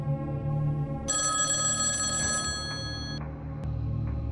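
An old-style telephone bell rings in the Creepeat indie horror video game, a bright metallic trill lasting about two seconds before cutting off, over a low ambient hum, with no speech.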